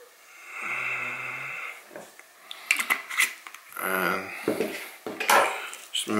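Sweet potato stirred together with a little cinnamon and maple walnut, heard as scraping, clinking utensil and bowl sounds in irregular bursts, fairly close, with some low rumbling noise between strokes.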